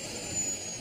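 An Airbus A320 jet engine running in reverse thrust gives a steady, broad roaring whine with a faint high tone, continuous and unchanging through the short moment.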